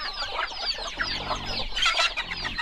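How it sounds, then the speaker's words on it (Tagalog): Hens cluck close by on a farm while chicks peep around them, a busy, continuous mix of short clucks and high chirps. "Kasi yung mga sisiw naman, oh."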